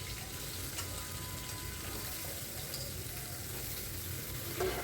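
Pieces of young jackfruit, drained of their water, frying in hot oil in a pan, a steady, even sizzle that stays close and continuous throughout with no voices.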